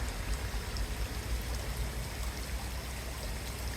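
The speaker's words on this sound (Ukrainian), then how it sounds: "водичка стікає з самого верху і тече по всьому цьому, так би мовити, ковру" Continuous soft rushing and trickling of water down an artificial waterfall in Aliyev Square, Kyiv, steady and even throughout, like a gentle cascade heard close by with no voices.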